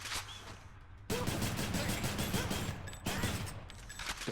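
Exagryph, the rail weapon in the action game Hades, firing in a steady fast burst, a rattling stream of automatic shots that starts abruptly, briefly dips, then keeps going loud and close.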